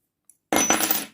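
A metal key picked up for a crochet keychain, a brief bright metallic jingle and clink close by, preceded by a tiny tap, with no voices.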